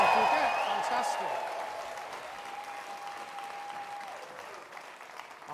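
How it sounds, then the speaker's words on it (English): A graduation ceremony crowd in a rehearsal hall claps and cheers loudly, the noise strongest at first and then easing into sustained applause, with a few shouts and voices rising through it. "can you start to scream and shout, celebrate, cheer, and make as much noise as you're going to later in the ceremony, please?"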